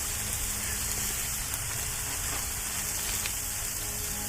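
Frozen food cooking on a hot griddle gives a continuous close, dense sizzle with a crackling hiss that stays even throughout.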